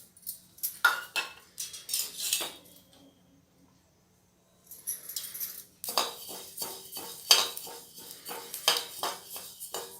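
Flax seeds dry-roasting in a pan are stirred with a metal spoon, producing bursts of rapid scraping and clinking with a short pause in the middle and a denser, rhythmic run of scrapes toward the end.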